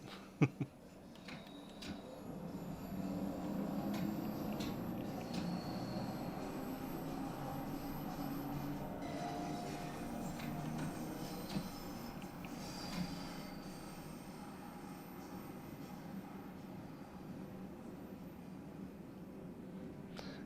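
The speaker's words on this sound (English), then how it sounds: "This is a Bakerloo Line train to Elephant and Castle." A London Underground Bakerloo Line train runs in Train Sim World 2, a steady rumbling ride with faint wheel squeal and rattles sustained throughout.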